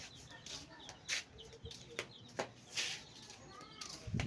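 Chickens cluck intermittently in the background amid outdoor noise, with several short squawks scattered through, partly under low voices.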